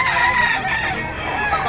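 A gamefowl stag crows at a busy market in Bocaue, Bulacan, one loud, drawn-out call that runs close and unbroken over a dense din of other birds.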